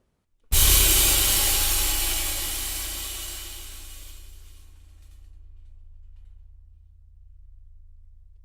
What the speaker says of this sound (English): because this is a 21-inch ride cymbal generally